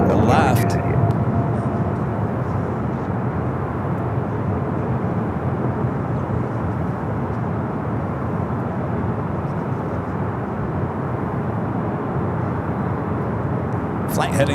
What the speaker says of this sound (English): China Airlines 777 rolling down at 25 left.